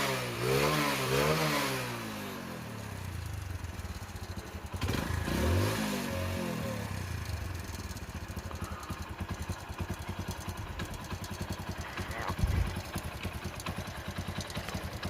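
A motorcycle engine runs steadily nearby after its silencer was gas-welded, idling with a quick rev early on and an even, throbbing rhythm throughout.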